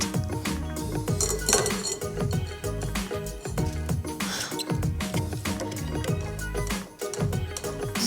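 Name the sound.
straining strawberry puree through a sieve to remove seeds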